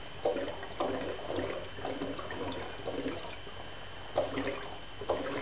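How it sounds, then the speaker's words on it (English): CO2 gas bubbling into a keg of bourbon and cola, a steady watery gurgle with repeated louder bursts of bubbling roughly every second, close and alone. "Gas bubbling into the keg."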